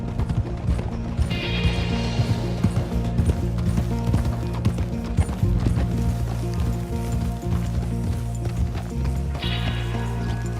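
Hooves of a Dark Bay Turkoman horse in a video game clip-clop steadily toward the stables, a close, even trotting rhythm over faint rustling, with no talking.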